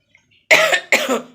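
Two harsh coughs in quick succession from a person suffering from a cold, loud and close, following a brief quiet moment.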